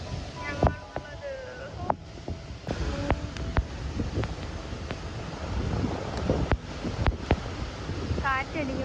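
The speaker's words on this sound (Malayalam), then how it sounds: "കാറ്റടിക്കുമ്പോൾ മുഖത്തോട്ട് വെള്ളം അടിക്കുന്നത്" Gusty wind drives water spray at the Athirappilly waterfall in Kerala, buffeting the microphone in rough bursts with a distant rushing roar underneath, while voices chatter faintly at moments.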